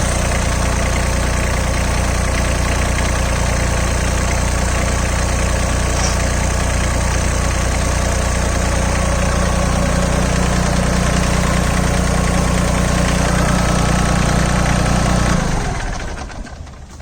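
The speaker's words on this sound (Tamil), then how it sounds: "இந்த இன்ஜினை வந்து ஸ்டார்ட் பண்ணுறேங்க. சவுண்ட் எப்படி இருக்குன்னு பாருங்கள்." A Sonalika Tiger GT-30 30 hp 4WD mini tractor's diesel engine idles loudly and close, a steady low knocking chug running unbroken before cutting off near the end.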